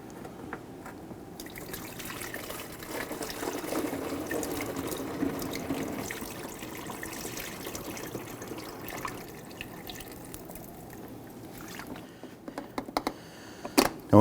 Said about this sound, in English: Now we can go ahead and transfer over your old washer fluid if you choose to do so